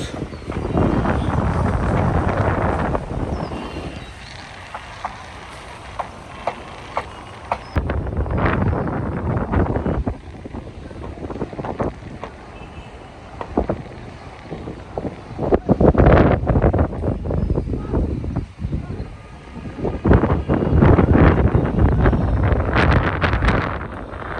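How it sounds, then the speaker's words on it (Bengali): Strong wind buffets the microphone beside the Dakatia river on Mission Road in Chandpur, a loud, continuous roar surging in gusts for the whole stretch with no talk. "প্রচণ্ড বাতাস, সেই বাতাস"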